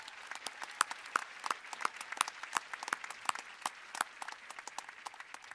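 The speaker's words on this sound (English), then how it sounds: "Let's give a nice round of applause for Mr. Zach Harris and Miss Molly Steele and the performances of our students." At a Helena High School graduation ceremony, a thin scattering of individual claps sounds for student performers: sharp, separate hand claps from a small group, fairly quiet and sparse.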